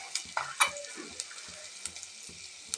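Small onions and vadagam tempering in hot oil with fennel and fenugreek, a steady sizzle with light stirring clicks and scrapes close by.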